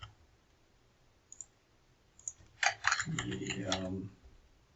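A computer mouse clicks the plus button in an event-creation tool: a couple of light, separate clicks, followed by a person speaking nearby.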